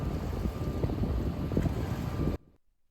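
Strong wind buffets the microphone at a lake dock, a continuous rumbling roar that stops abruptly near the end, leaving near silence.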